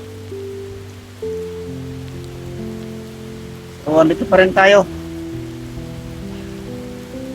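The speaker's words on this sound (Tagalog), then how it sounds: "Napakalakas ng ulan na." Heavy rain pours down outdoors near banana plants, a constant dense wash of noise throughout, with someone briefly speaking over it partway through.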